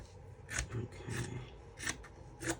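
Scissors snip through the side of a quilt patchwork junk journal cover, four crisp cuts spaced roughly evenly and close by, with faint rustling of paper and fabric between them and no talking.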